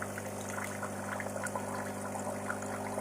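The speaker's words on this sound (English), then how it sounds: "the glass is being filled with probably some filthy water" A DeLonghi Nescafé Dolce Gusto Jovia capsule coffee machine runs its first flush, a steady pumped stream of water splashing into a glass with a constant mechanical hum underneath, close and continuous.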